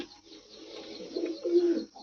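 A pigeon coos softly and close by, a low, throaty murmur swelling over a couple of seconds.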